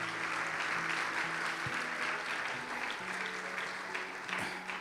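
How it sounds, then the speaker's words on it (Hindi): Audience applause for Dr. Rehan during a Christmas church sermon, a fairly faint continuous patter of clapping with a low hum beneath it. "जोरदार तालियां डॉक्टर रेहान साहब के लिए।"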